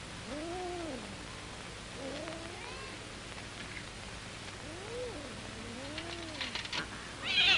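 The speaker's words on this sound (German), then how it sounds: "Das wirst du aber lernen müssen, die Katzen auseinanderzuhalten." Cats meow in drawn-out, rising and falling calls, two pairs of meows a few seconds apart, fairly close over a soft steady background hiss, with a brief rustle at the end.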